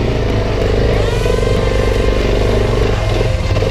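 Suzuki DR enduro motorcycle engine revving hard while stuck in a boggy, muddy patch, a loud continuous close-up roar with clattering undertones and no speech.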